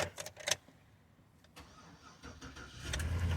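A 5.3 V8 car engine with its V.A.T. system deleted starts up after a few faint clicks, cranking briefly before catching into a steady low idle rumble.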